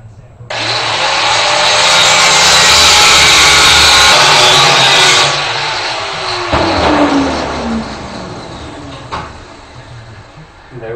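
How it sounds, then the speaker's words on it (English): Cutting wheel on a grinder slicing through a metal leg while building a forge hood, a loud harsh whine for several seconds that drops off, followed by a fainter run-down and small knocks. "Switch back over to a cutting wheel. Now I can cut that leg off."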